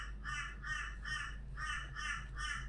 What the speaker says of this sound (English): the raven outside or crow outside sounds more like a raven than a crow